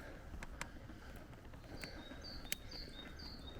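Faint, sparse bird chirps and short calls ring out over a steady low background hum, distant and quiet, on a quiet rural road along Turkey's Black Sea coast, heard while cycling slowly uphill.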